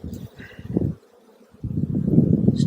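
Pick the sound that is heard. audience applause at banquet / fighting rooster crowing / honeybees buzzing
honeybees buzzing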